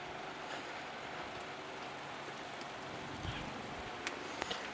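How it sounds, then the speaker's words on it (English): Heavy rain falls steadily as a dense, continuous hiss throughout, with a few louder, sharper drops from big raindrops near the end. "here comes some heavy rain"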